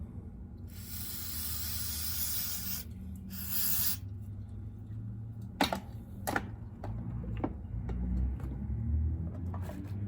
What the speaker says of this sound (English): I'm gonna go ahead and spray this off too.